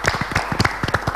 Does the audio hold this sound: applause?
yes